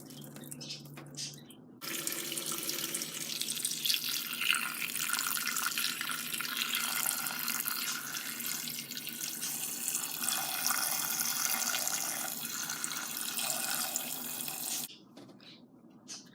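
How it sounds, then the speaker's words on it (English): Cold tap water gushes steadily into a pot of cooked green beans at a kitchen sink, a broad continuous splashing rush starting after a brief quiet lead-in and cutting off near the end. "pour out most of the hot water and now start to add in cold water"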